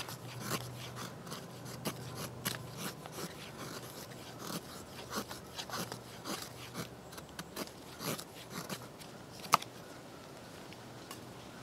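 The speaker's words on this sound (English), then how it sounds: "I just shave it down till I get the size fuel that I want" A Deer Creek Forge Kephart knife shaves wood down into fire fuel with repeated soft scraping and rasping strokes, quiet and close, with an occasional sharper click and no talking.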